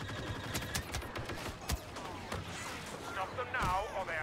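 Blaster gunfire in Star Wars Battlefront, the Rogue One Scarif DLC map: repeated sharp shots in quick bursts, close and loud, mixed with game effects and continuous talk over the top.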